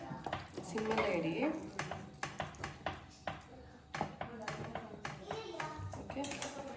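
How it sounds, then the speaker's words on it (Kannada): Fried vegetables tipped into a pan for restaurant-style pasta and stirred, giving a steady run of sharp metallic scrapes and clinks from a spoon against the pan, close and fairly rhythmic, with a voice speaking faintly underneath. "ಫ್ರೈ ಮಾಡ್ಕೊಂಡಿರೋಂಥದ್ದೆಲ್ಲ ವೆಜಿಟೇಬಲ್ಸ್ ಹಾಕ್ತಿದ್ದೀನಿ ನಾನು."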